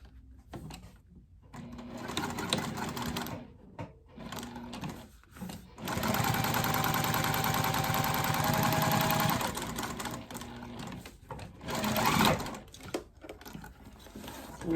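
A sewing machine top stitches down the side of a leather tall wallet with Optipop thread, running slightly rough in bursts, with a long steady run in the middle and short pauses between.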